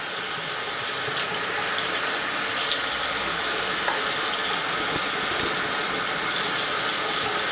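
A running tap pours steadily while a makeup brush is wetted under lukewarm water, a loud, even hiss of splashing water flowing without a break, close by and with nobody speaking.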